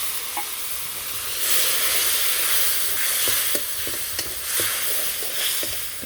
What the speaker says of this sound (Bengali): হলুদের ফাঁকি আর পাঁচ মিশালি ফাঁকি তাতে একটু জল দিলাম